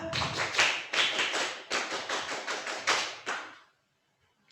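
Children doing tepuk pramuka, the scout-style rhythmic clapping, at a scouting character workshop: patterned bursts of claps in groups with brief gaps, close and clear, stopping abruptly before a short silence.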